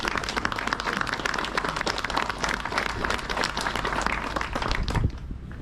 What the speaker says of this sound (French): merci aux entreprises, on peut les applaudir également